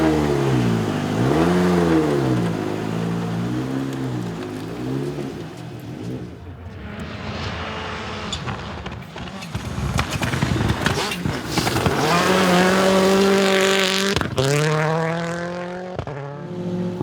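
A loud Hyundai rally car engine revs and roars on Timaru Raceway in New Zealand, pitch sweeping up and down through gear changes, with passes and bursts of acceleration throughout.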